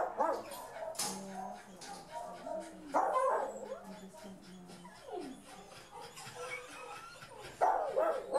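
A small, fearful dog whimpers, yips and gives a few sharp barks in a kennel, with people talking nearby throughout.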